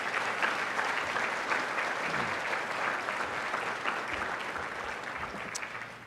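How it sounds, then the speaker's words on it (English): A school event audience applauds at length, a dense, steady wash of clapping from many hands that slowly tapers off toward the end, heard somewhat distantly. "Let's give them all a round of applause."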